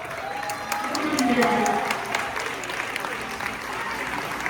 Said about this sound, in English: Sylvia, every round of applause.